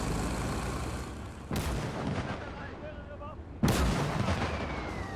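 A flak gun fires in the Gates of Hell war game, with two loud booming shots a couple of seconds apart over a constant rumble of battle.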